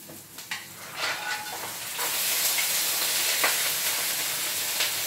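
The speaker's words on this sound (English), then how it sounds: "Can you hear the sizzle?" Loud, steady sizzling of mussels frying in a hot pan, with a few clatters and stirring sounds at the start before the hiss settles in.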